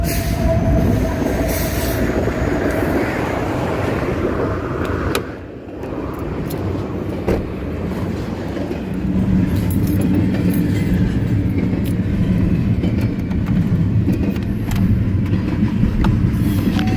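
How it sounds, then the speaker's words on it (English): A train rumbles past on the tracks near a quarry in Pembroke, Virginia, a loud, steady roar of wheels and cars with brief metallic squeals, continuing throughout. "see the train coming down the railroad tracks there"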